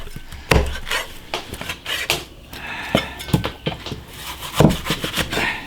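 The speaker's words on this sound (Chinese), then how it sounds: "牛肚搞一块，先把它稍微切下" A knife chops beef tripe on a wooden board in a home kitchen, giving a string of sharp, irregular knocks and taps up close, with no talking.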